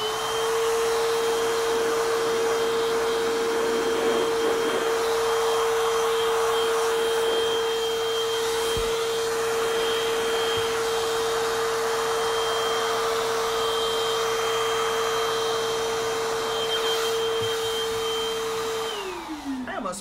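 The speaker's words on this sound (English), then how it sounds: "And if I turn it on, it still blows. So it's gonna blow cool air." A loud air blower pushing cool air, used on an epoxy project, runs as a steady close roar with a high whining tone throughout, then winds down at the very end, with no talking.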